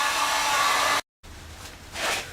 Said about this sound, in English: take a heat gun